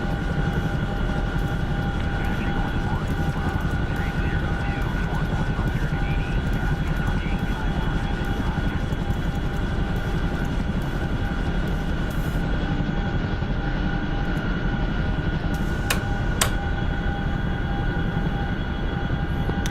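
Chinook helicopter in a video game, a loud unbroken rotor and engine drone with steady tonal whine, a couple of sharp clicks near the end.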